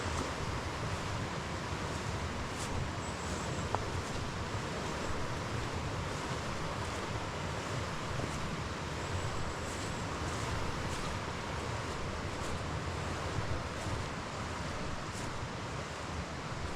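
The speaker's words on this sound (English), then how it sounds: "there's some more whitewater rapids where it's got a drop down for about a foot" Steady, unbroken whitewater rapids with a one-foot drop roar throughout, loud and close, with a windy hiss over the top and no pause.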